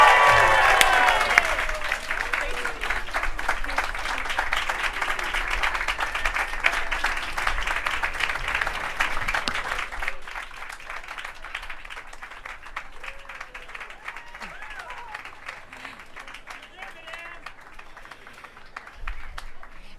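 Crowd at a Hollywood Walk of Fame star ceremony bursts into sustained applause and cheering, loudest at the start and easing into scattered clapping that lingers to the end.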